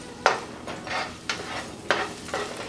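Onion and garlic sauté in a pan for a chicken and broccoli dish, with a soft steady sizzle broken by four sharp spoon strokes scraping through the pan, close and alone.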